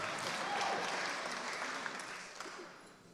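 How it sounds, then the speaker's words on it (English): An audience at a community event applauds steadily, a dense wash of clapping that slowly fades over a few seconds. "Keep that applause going for Sandra."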